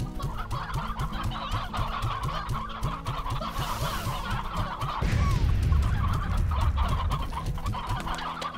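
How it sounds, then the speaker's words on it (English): Chickens cluck steadily in a Slime Rancher game ranch, a rapid run of close, repeated clucks in a regular rhythm, joined midway by a denser low rumble of the game's ambience, with no talk over them. "We got lots of chickens."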